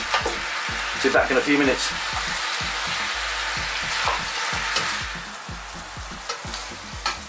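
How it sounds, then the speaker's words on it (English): Sticky pork ribs sizzle and fry in a thick sauce over lively heat, with repeated scraping stirs tapping out an irregular rhythm close up; a voice speaks briefly over the cooking. "Keep mixing them in this beautiful sauce that we've created."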